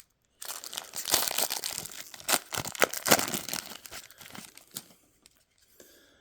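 A 2014 Topps Jumbo Update baseball card pack wrapper is torn open and crinkled up close, with loud crackling bursts for several seconds before fading to a few soft rustles.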